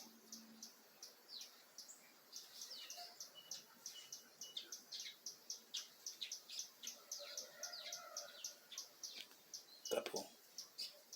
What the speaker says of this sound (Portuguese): Tem todo tipo de pássaro ali.